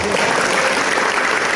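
A crowd claps at the opening of Tamanan market in Bondowoso, a dense, steady burst of applause filling the short moment, close and loud throughout.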